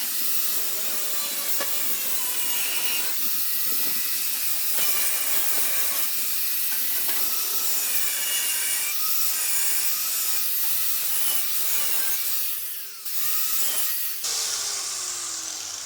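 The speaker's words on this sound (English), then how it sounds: "I can actually use my flap disc of an 80 grit to get in and smooth out the rough edges and the shapes" A Hitachi G13SR3 angle grinder with an 80 grit flap disc smooths rough edges, producing a continuous high whine and hissing abrasive rasp with small shifts in pressure, then a brief dip and a change in tone near the end.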